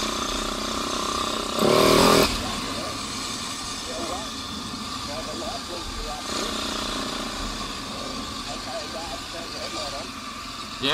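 A motorcycle engine chugs along in third gear at low revs, a steady mid-distance drone under wind hiss and someone talking, with a brief louder rush around two seconds in.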